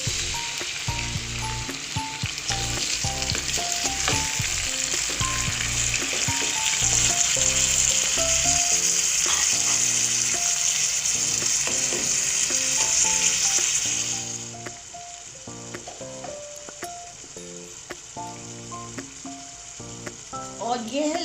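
Tomatoes fry with onions in a pan for butt karahi, giving a loud, steady sizzle with intermittent stirring scrapes and clinks; the sizzle drops noticeably quieter partway through.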